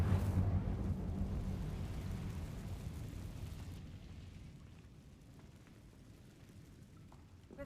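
The Incendio fire spell cast in Hogwarts Legacy, a loud roaring whoosh and rumbling burst that slowly fades into a quieter crackling tail, with no talking.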